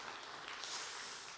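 Congregation applauding in a church during a Sunday service, a steady wash of clapping that swells midway and holds through to the end, fairly faint and distant, with no talking.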